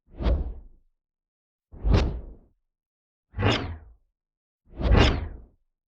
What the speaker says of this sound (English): With all the layers and variations, this is the swing sound of the claw